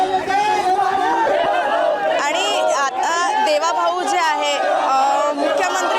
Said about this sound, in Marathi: नागरिकांची इथे गर्दी झालेली पाहायला मिळत आहे उत्साह जो आहे तो साजरा करत आहेत